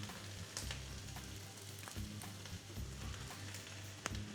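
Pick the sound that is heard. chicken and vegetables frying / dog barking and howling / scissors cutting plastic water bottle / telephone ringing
chicken and vegetables frying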